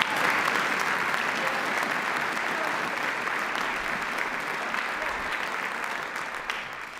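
Sustained applause from a high school concert audience honoring honor band participants, steady dense clapping at full strength throughout, easing only slightly near the end.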